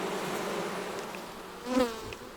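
Honeybees hum in a steady, close swarm at an open hive, with one bee buzzing louder as it passes near the microphone.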